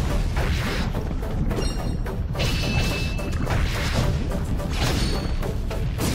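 Explosions in the video game Eiyuden Chronicle: Rising, set in a lava area: dense, loud crashing blasts and booms hit in quick succession, filling the whole stretch with no speech.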